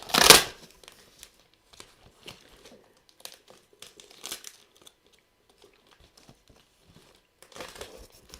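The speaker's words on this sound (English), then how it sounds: "I just have to rip this" Paper or material is ripped and crinkled during an oil painting session: a loud tearing burst at the start, then scattered soft crinkles and rustles, and another crumpling burst near the end.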